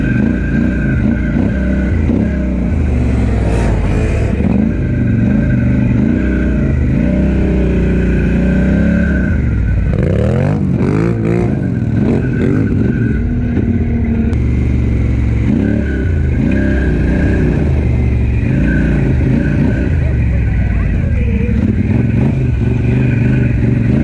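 A heavy motorcycle runs loud and close the whole time at an IRATV benefit ride, its engine revving up and down in repeated surges with some mechanical clatter, and no one speaking.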